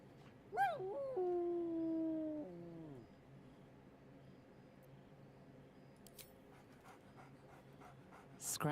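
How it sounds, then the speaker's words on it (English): A dog named Scratch in Red Dead Redemption 2 lets out one drawn-out, howling bark-whine near the start, followed by quiet game ambience and a brief sharp sound at the end. "Scratch barks merrily in something like agreement"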